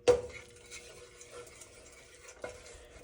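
A utensil stirs pan sauce in a hot pan, giving soft scraping and a faint sizzle, with a sharper clink at the start and another light knock near the end.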